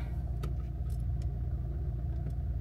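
An old car's engine runs while driving, giving a steady low rumble with road noise inside the cabin and a few faint clicks, and no one speaks.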